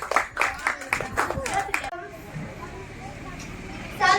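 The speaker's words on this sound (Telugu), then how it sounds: "చప్పట్లు చప్పట్లు" Children clap their hands in a quick run of sharp claps for about two seconds, then the clapping stops. A quieter background murmur of voices follows.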